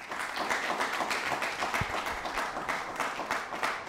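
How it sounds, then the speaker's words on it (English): A late-night studio audience breaks into sustained applause, dense steady clapping from many hands filling the room for several seconds with no voices on top. "applaud if you haven't been to Toads"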